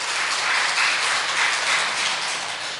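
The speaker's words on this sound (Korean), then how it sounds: "큰 격려의 박수 부탁드립니다" A church congregation at a Korean Sunday worship service gives a steady, dense round of applause, filling the room evenly from start to finish with no voices over it.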